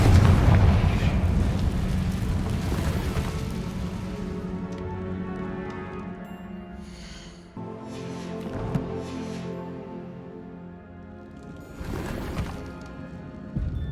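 Confringo explosive spell going off in Hogwarts Legacy: a loud blast that rumbles and crumbles away over several seconds, followed by fainter debris clatters and smaller bursts around eight and twelve seconds.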